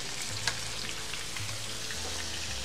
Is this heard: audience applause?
no